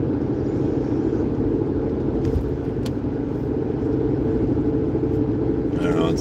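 A 2009 Hyundai Santa Fe driving, steady loud cabin road rumble and engine drone throughout, a brief sharper rattle near the end.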